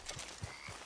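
Horse hooves in Red Dead Online clop in a few soft, evenly spaced beats, faint and brief.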